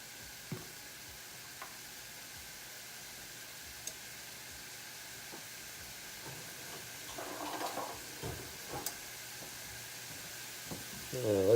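A keto Mexican casserole seasoned with granulated garlic and onion cooks in a pan with a soft, steady sizzle and occasional light clicks and stirring scrapes, quiet and close.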